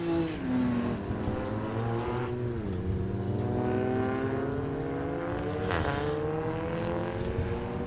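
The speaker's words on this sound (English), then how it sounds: "I can already see cars heading out of the pit lane." Race cars at Croft circuit pulling out of the pit lane before a 750 Motor Club race, engines droning and revving together with rising and falling pitch, a steady loud roar from several nearby cars.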